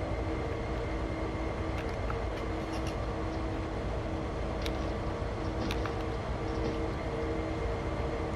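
Slow-moving train in the Train Sim World 2 video game, a steady low rumble and hum of rolling wagons with faint clanks and rattles scattered over it, continuous and close.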